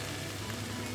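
Carrot and green pepper sizzling in a frying pan beside cabbage over medium-high heat, a steady close hiss and crackle like light rain, even and continuous.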